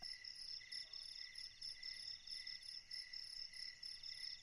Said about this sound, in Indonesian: Widih, lebih banyak tuh jangkriknya.